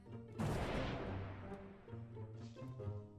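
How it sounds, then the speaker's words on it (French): Cannon shot in a video game, a single deep boom that swells and rumbles away over a few seconds, followed by low tonal game sounds, faint and without talk. "faut que je tire au canon"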